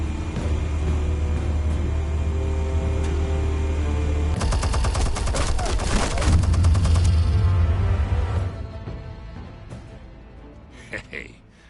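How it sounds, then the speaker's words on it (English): Explosive blasts and rapid gunfire-like bursts in the Batman Telltale game, a loud dense volley lasting about four seconds over a steady low rumble, then fading into quieter debris and ambience. "Explosives armed. Fire when ready."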